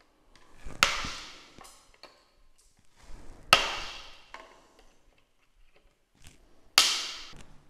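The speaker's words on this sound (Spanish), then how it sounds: "Ahora con el alicate, pues le quitamos el sobrante" Pliers snip the excess off plastic fasteners on a Seat Leon FR bumper with three sharp, crisp snaps a few seconds apart. Faint handling clicks fall in between, up close in a quiet space.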